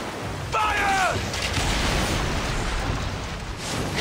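Ship cannons fire at an enemy fleet during a naval battle in the video game Assassin's Creed Origins, with a booming blast and rumbling roar over a constant wash of sea and battle noise, plus a short whistling streak.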